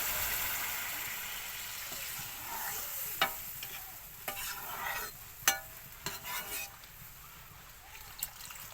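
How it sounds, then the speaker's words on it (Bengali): Broth goes into a frying pan of cauliflower being cooked for a chela fish dish, giving a faint steady sizzle broken by a handful of sharp spoon clinks and scraping as it is stirred. "এবার আমি ঝোল দিয়ে দেবো।"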